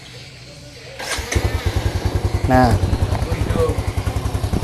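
A motorcycle engine cranks on its electric starter and catches, settling into a steady, rapid idle thump that pulses evenly throughout, with someone talking briefly over it at the start.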